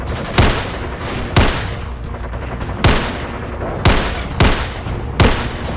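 Rifle volley gunfire in a staged Philippine war skit set in 1899, with about seven loud, sharp shots spaced irregularly over several seconds, each followed by a brief echoing tail.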